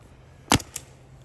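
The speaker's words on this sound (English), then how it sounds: "we are going to shoot some of this paint" A single sharp shot from a paintball marker firing GI 5-star paint on a CS3 with a JT Triad loader, followed by a fainter second pop, loud and close against quiet.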